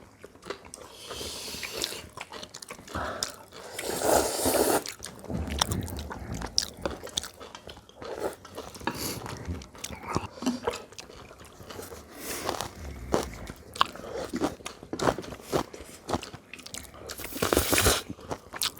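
Eating spring cabbage spicy mixed noodles with pork belly and dumplings in Korea, close crunchy bites and steady wet chewing repeating throughout, with occasional light scrapes and no talking.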